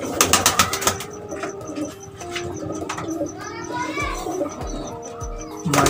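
Sialkoti pigeons coo in a rooftop loft, soft repeated throaty calls mixed with wing flutters and occasional chirps, close by, with faint voices of people in the background.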